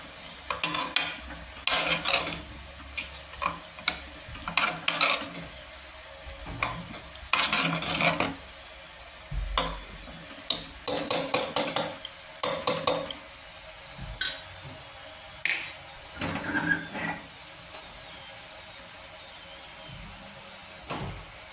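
Spinach and dal with turmeric stirred in a pan on the stove, repeated bursts of spoon scraping and clinking against metal, with quiet pauses between them and a faint background sizzle.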